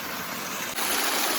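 Steady rushing water flows close by, a continuous broadband hiss that grows slightly louder partway through.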